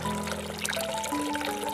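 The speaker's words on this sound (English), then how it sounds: "Fill bucket with water." Water pours steadily into a bucket, a continuous splashing gush lasting under two seconds, with soft tonal music underneath.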